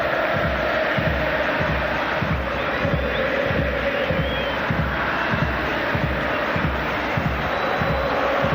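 Stadium crowd at an Argentina versus Spain international friendly applauding Lionel Messi, a steady dense roar of clapping and cheering filling the whole stretch at even loudness with no clear pauses.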